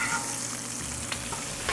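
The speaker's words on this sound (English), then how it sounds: "sausage cooking, bacon's cooking, got the biscuits." Sausage and bacon sizzle on a Blackstone griddle in a continuous, close frying hiss, with a few light scrapes and taps of a spatula and no talking.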